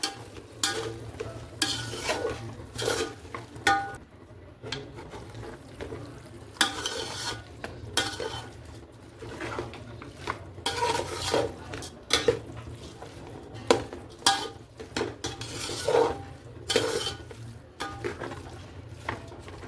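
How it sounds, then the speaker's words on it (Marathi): Repeated scraping and stirring of rice sautéing in a sizzling tempering for chicken biryani, with irregular bursts of spoon-on-metal scrapes over a steady fry, close up. "सगळं हे छानपैकी परतून घेऊयात."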